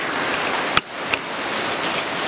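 Steady rain falls outdoors beside a wide garden with banana trees, a dense even hiss throughout with a couple of sharp drip-like taps standing out.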